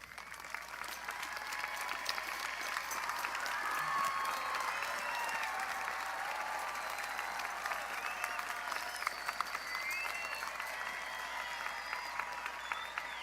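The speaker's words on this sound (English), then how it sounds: "Well-deserved round of applause." A large crowd at a high school commencement applauds the parents, a long, even wash of clapping that holds at a moderate level throughout, with faint voices and scattered cheers mixed in.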